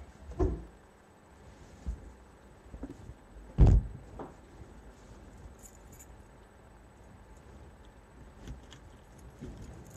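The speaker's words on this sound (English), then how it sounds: "Grabbing my keys." A bunch of keys being grabbed and jangled indoors, quiet metallic clinks and a sharp knock or two amid low background rumble, fairly faint and sparse.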